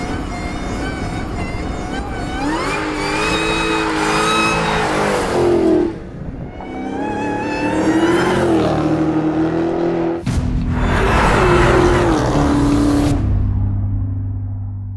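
A car engine revs hard under quick throttle presses, rising and falling in three loud surges with a rough, throaty tone, close by.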